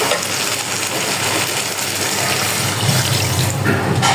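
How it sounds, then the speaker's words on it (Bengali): A little water poured into a pan of mung dal cooked with fish head, giving a steady, even splashing rush that runs unbroken from start to finish. "এখন আমি হালকা পানি দিয়ে দিব।"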